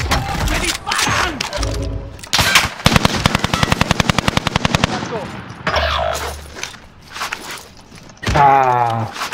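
Video game gunfire in a team match with a flag objective, a long rapid automatic burst in the middle among other shots and footsteps, loud and close, with shouted voices around it.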